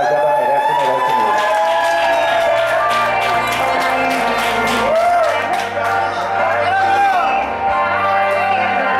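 A crowd cheers, whoops and shouts at a birthday tribute for a friend in São Paulo's north zone. The noise is loud and continuous, with many voices and some tonal sound mixed through the whole stretch.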